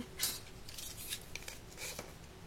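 A craft knife cutting paper while a Halloween card is being made, giving a few faint, close scraping strokes and crisp slicing scratches in a quiet room.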